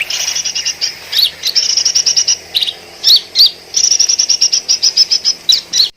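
Small birds chirp in quick, bright bursts, rapid runs of high tweets broken by short pauses and sharper calls, close and clear over a quiet background with no talking.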